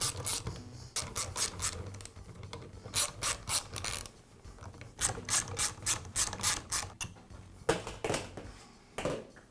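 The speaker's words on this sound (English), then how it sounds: "I'll begin by removing the nail gun's cap." The cap comes off a Bostitch roofing nail gun in a series of quick ratcheting, clicking bursts of turning metal, close and fairly quiet, with short pauses between turns.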